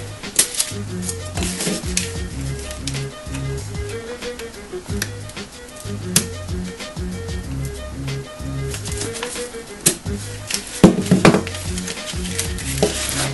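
A knife cutting through a sheet of shrink plastic, a quick irregular series of close, crisp scratching and tapping cuts with short pauses in between.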